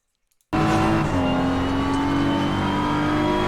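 A BMW M4 GT3 race car in Assetto Corsa Competizione bursts in after brief silence at full throttle, its engine roaring loud and steady with a sustained high rasp and a pitch step as it pulls through the gear.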